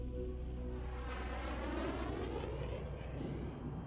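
A fighter jet maneuvers overhead with a roaring engine rush that swells and sweeps in pitch as it passes, a distant, continuous whoosh without breaks.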